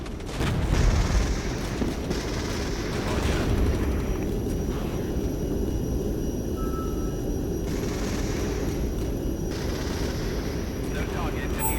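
Distant artillery strikes rumble in the Regiments Cold War tactics game, a continuous low booming under radio chatter and voices talking throughout.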